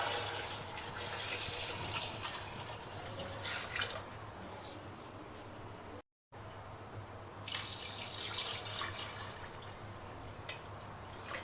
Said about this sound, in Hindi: और इसमें डाल देते हैं तकरीबन 2 लीटर के करीब पानी।